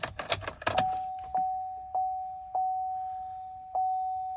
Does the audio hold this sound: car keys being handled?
yes